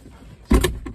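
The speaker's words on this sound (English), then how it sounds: "you undo these latches on the bottom" Latches being undone beneath a seat in a Toyota LiteAce 4x4 diesel van: a sudden close metallic clack and rattle, followed by a second softer click, with no talking.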